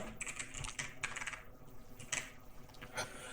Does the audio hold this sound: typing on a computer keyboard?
yes